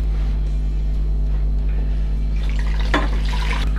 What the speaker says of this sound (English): the first thing is just to strain our stocks through this chinois or a sieve if you don't have one